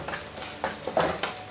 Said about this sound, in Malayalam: ഇനി ഇതെല്ലാം കൂടെ ഒന്ന് നല്ലവണ്ണം മിക്സ് ചെയ്യുക